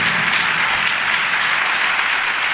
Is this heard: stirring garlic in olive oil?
no